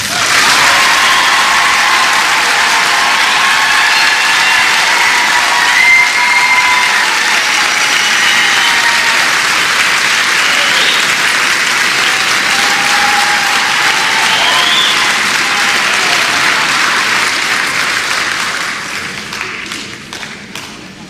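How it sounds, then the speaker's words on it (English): A large audience applauds graduates at a graduation ceremony with dense, sustained clapping that holds steady for about eighteen seconds and then thins out and fades. "please give them a warm round of applause"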